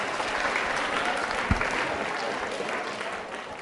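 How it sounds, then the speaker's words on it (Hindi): Steady applause from a school audience at a Navratri quiz show, many hands clapping densely and evenly for the whole stretch, with one sharper thump midway and no talk over it. "जोरदार तालियां"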